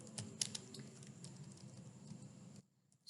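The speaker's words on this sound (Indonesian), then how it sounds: "Oke, untuk caranya kita ketikkan" Rapid keystrokes on a computer keyboard as a Linux terminal command is entered on Ubuntu, a quick patter of clicks that stops near the end, with no talking.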